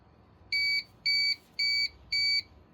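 Four evenly spaced electronic beeps from a UPS battery backup unit, each a short steady tone of about a quarter second, clear and close over a low background hum.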